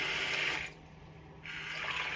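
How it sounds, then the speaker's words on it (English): Tap water runs from a kitchen sink faucet into a container on a scale, a steady close hiss that dips briefly in the middle as the flow shifts, then resumes. "Do it right from the tap."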